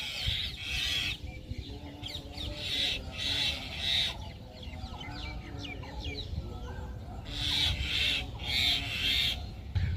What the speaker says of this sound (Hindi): उस क्वार्टर से हटने के लिए मैना चीख रही है कि तुम हटो वहाँ से, मेरा घर है।